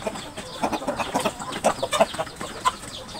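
Laying hens kept for table eggs cluck in short, irregular bursts, moderately close and fairly quiet over a soft background.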